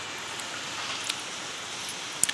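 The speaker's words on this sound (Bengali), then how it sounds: "এত বৃষ্টি হচ্ছে দেখো" Heavy rain falls steadily as a dense, even hiss with a few faint drop ticks near the end, heard alone without voices.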